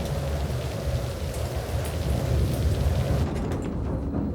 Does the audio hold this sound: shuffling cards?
no